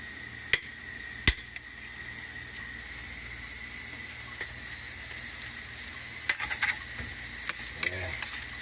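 Stuffing fries in a pan with oil and butter, giving a soft, steady sizzle broken by a few sharp clicks and knocks of a utensil against the pan, with a busier scraping stretch near the end.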